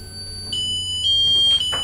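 A radiation detector alarm sounding near high thorium levels inside a mine gives off steady electronic beeping tones that grow more insistent and urgent over the short stretch, close and fairly loud.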